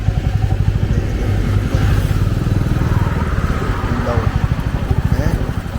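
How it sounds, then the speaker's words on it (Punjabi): A motorcycle on a road ride from Jaito to Bathinda in Punjab, its engine droning steadily and close throughout with a rapid, rhythmic firing pulse and road rumble. "ਆਪਣੇ ਪਿੱਛੇ ਆ ਰਿਹਾ ਮੋਟਰਸਾਈਕਲ"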